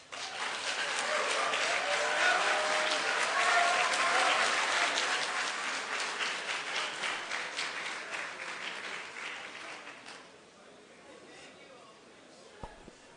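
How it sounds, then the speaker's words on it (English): Sustained audience applause with dense clapping fills a public hall after an address at a Liberian forum, loud and steady for about ten seconds before thinning to scattered claps. "Please control the clapping."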